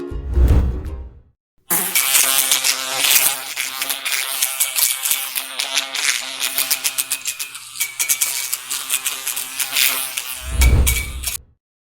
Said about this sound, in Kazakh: шыбын,